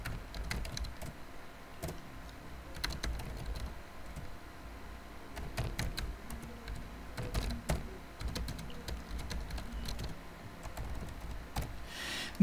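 Fingers type steadily on a computer keyboard while writing code, producing quick, quiet clusters of key clicks with brief pauses, with no voices.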